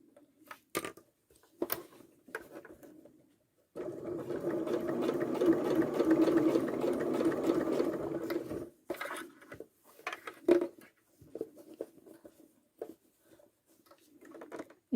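Sewing machine stitching bias binding onto a garment neck and armhole: a steady whirring run of several seconds between brief short bursts and quiet handling noises, close and soft.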